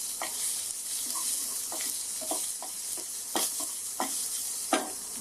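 Garlic and crushed ginger frying in a hot pan, sizzling steadily while a spoon stirs them with scattered scraping clicks, close and continuous with no talking.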